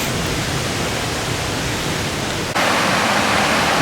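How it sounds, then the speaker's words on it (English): Waterfall at Big Dam along Sweet Arrow Lake, heard as a steady, loud, broadband roar of rushing water with no other sounds. The roar grows slightly brighter partway through. "That is a Big Dam waterfall"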